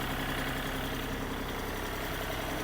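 Small Mitsubishi NTR 270 three-cylinder 27 hp Japanese mini tractor engine running steadily at close range, a continuous idling drone with a faint knocking rhythm and no talk.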